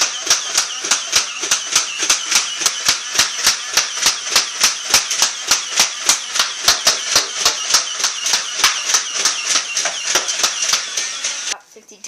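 A toy rhino gun with drums and a trigger fires a long, rapid, steady stream of sharp clicking shots for about eleven seconds, loud and close, stopping abruptly near the end.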